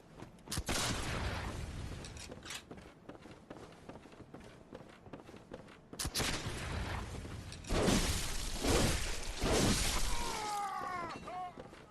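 Cannon fire in the video game Bloodborne: loud, booming blasts with crumbling impacts, the biggest at the start and again around the middle, mixed with running footsteps and rumbling game noise.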